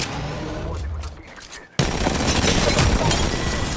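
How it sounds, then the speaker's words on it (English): Gunfire in Apex Legends: a quieter stretch of distant shots and game noise gives way to a sudden loud burst of dense, rapid firing that carries on to the end. "Shooting at us."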